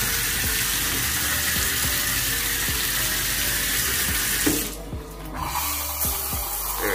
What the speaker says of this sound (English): Get the shower going.